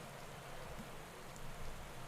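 Rain falling on a soaked road in the cycling video game Pro Cycling Manager 2015, a soft, even hiss of drops, fairly quiet and unbroken throughout.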